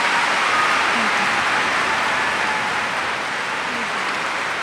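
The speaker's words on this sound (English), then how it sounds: "listen to that applause" Sustained applause from a large audience follows Malala's lecture, a dense, even wash of clapping that carries on without a break and fades slightly toward the end.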